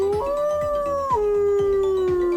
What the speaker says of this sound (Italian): il tono, il timbro dell'ululato del lupo è cambiato ovviamente